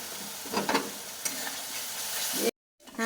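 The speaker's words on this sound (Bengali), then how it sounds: "এবার কষিয়ে নেব।" Paneer masala being sautéed in a pan with salt and sugar: a continuous close sizzle with scraping stirs and a few clinks, then a brief break before the frying hiss returns.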